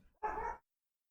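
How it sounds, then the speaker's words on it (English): A single short dog bark, close and clear, alone against silence in a quiet indoor setting. "Dog barking."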